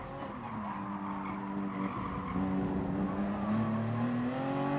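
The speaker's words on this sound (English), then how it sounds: "the guy in P7 just spins off into the barrier" A Toyota GR Supra Gr.3 race car in a Gran Turismo Toyota Cup race at Interlagos spins off into the barrier, with engine drone and a rising, sustained tire squeal building over several seconds, loud and steady with no talk.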